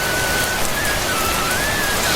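Steady rain falling, a dense continuous hiss with patters of drops on a surface, fairly loud and unbroken, with a faint thin whistle-like tone drifting above it.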